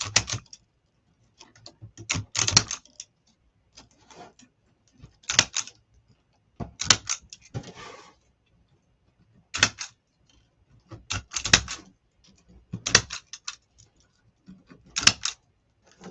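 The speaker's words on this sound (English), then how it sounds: "let me get these zip ties off." Zip ties being clipped and pulled off a spring ladybug wreath, heard as sharp, separate snaps and plastic clicks with quiet rustling between them, close and sparse over a quiet background with no voices.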